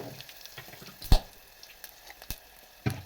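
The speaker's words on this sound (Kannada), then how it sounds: "ಒಂದು ಬೆಳ್ಳುಳ್ಳಿ ತೆಗೆದುಕೊಂಡಿದ್ದೀನಿ ಇದನ್ನ ಫ್ರೈ ಮಾಡ್ಕೊಳ್ಳೋಣ" Garlic cloves frying in a pan while rasam is being made, with sparse soft sizzles and a few louder spatters and clinks spread across the short stretch, close up with no talk.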